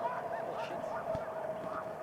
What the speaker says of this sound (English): Oh, they're playing with the geese.